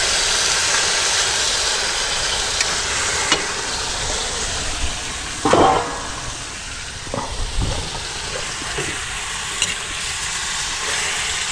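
Food sizzles and hisses steadily in a hot pan while sautéing, a dense continuous frying sound with a few brief clanks and stirring knocks over it.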